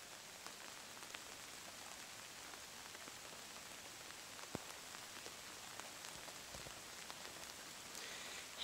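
Rain falls on a tarp stretched over an open deck, a soft, continuous patter with scattered individual drop taps, steady and fairly faint, with no voices.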